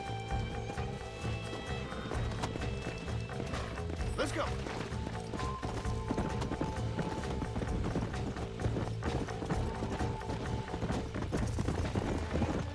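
Horse hooves clip-clop in a steady, running rhythm on a ranch, mixed with creaks and mechanical rattles under a dense musical bed. A voice speaks briefly.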